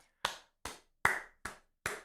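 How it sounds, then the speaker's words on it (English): Five separate hand claps ring out one after another at an even, unhurried pace, each sharp and close with a short ringing decay, isolated against silence. "Yo, round of applause for everyone in chat."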